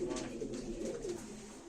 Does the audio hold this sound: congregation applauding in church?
no